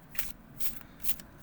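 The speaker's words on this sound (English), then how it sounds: "you can just do the basic overhand shuffling" Overhand shuffling of an oracle deck: three soft riffling bursts at an even pace, each a brief papery swish of cards slipping through the hands, close and quiet with no voice.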